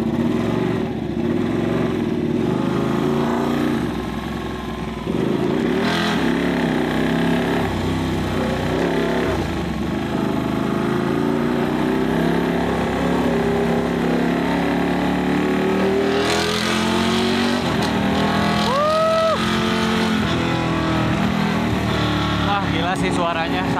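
Modified Ducati Panigale motorcycle engine running loud and continuous, with a steady rumbling drone and a rising rev near the end, while someone talks over it.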